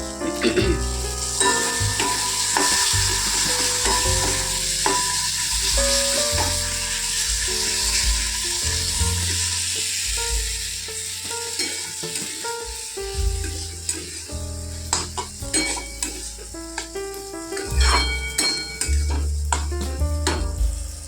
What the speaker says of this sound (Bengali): সেই ঝিঙে ভাজা হচ্ছে